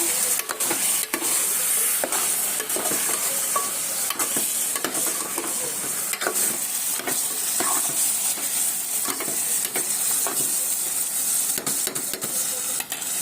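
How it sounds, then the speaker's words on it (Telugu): Gongura (sorrel leaves) curry with mutton cooks in a pot, a continuous close sizzle and bubbling hiss broken by frequent soft clicks and scrapes of stirring. "గోంగూర ఉడుకుతుంది."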